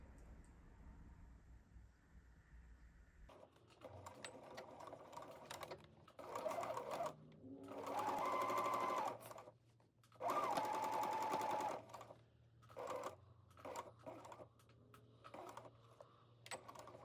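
A sewing machine fitted with an invisible zipper foot stitches a zipper into a skirt, running in several bursts of rapid mechanical whirring separated by short pauses.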